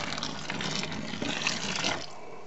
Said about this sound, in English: 1 liter of hot water, boiling hot water.